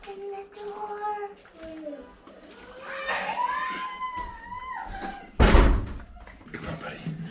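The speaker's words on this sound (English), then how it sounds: "Open the door." A door in a family home is opened, producing one sharp, loud thump near the end, while voices, including a child's, talk before and around it.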